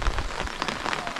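Heavy rain pours steadily during flooding at Lang Lang on the Victorian coast, a dense, continuous hiss of drops pattering on surfaces, close and fairly loud with no voices.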